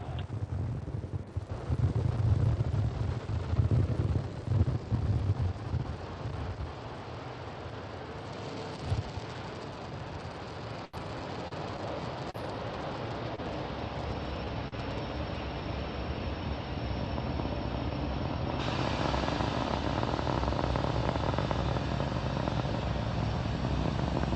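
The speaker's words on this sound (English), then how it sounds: "Successful liftoff for Falcon 9 from pad Power and 39A telemetry nominal." A SpaceX Falcon 9 carrying Starlink satellites lifts off from pad 39A at Kennedy Space Center, its distant, low rumbling roar building steadily and continuously over about twenty seconds with wind buffeting the microphone.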